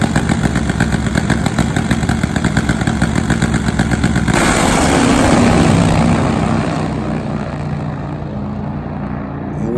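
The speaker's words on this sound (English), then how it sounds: "Now it's time for a Nitro Harley to take center stage." Nitro-fuelled Harley top fuel drag motorcycle engine at a drag strip, a loud rapid pulsing rumble that swells into a roaring surge and then fades away into the distance.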